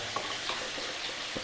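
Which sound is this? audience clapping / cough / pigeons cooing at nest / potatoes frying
potatoes frying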